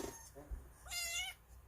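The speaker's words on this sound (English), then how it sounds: "Yeah, you're gonna hear a meow." A house cat gives a single faint meow indoors, short and alone against quiet room noise.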